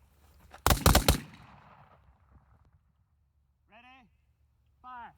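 A close burst of several rapid AR-15 rifle shots during firing drills, loud and sharp, with a fading echo afterward; a few short voiced calls follow in the quiet seconds later.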